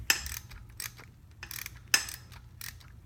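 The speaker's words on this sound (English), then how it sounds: "tightening up these exhausts, or just snugging them up right now" Exhaust bolts are snugged up on a 6.0 LS engine with a ratchet, giving a few bursts of quick metallic clicks separated by short pauses, close and fairly quiet.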